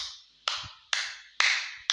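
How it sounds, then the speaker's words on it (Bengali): Four short bursts of applause for Sakib, each breaking out sharply and then dying away, close and fairly loud, with no talk over them. "সাকিব ভাইয়ের জন্য একটা হাততালি হোক।"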